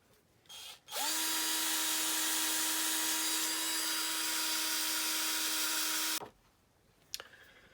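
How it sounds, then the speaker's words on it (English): A polishing wheel driven by a power drill on a die-cast Dinky Toys 284 Austin London Taxi spins up with a sharp whine, holds a steady loud high-pitched drone for about five seconds, then cuts off abruptly. "use this polishing wheel again, and I will try and film it this time"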